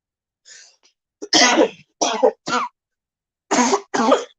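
A person coughs several times in short, harsh bursts spread over a few seconds, close to the microphone with silence between the fits.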